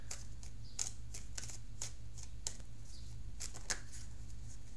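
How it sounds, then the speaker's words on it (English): Tarot cards handled and drawn from a deck, with several soft, quick papery flicks and riffles over a steady low hum, close and quiet, no talking. "So let me see if I can pull the outcome card here."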